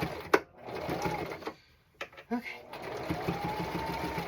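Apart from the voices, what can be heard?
sewing machine stitching striped pants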